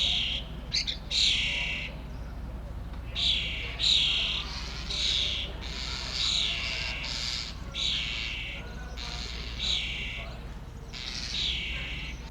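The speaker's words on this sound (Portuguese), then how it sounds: "o som agudo de o canto do pássaro" High-pitched bird song repeats as short, bright chirping phrases every second or so, fairly close, over a steady low background hum.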